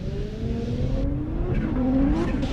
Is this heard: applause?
no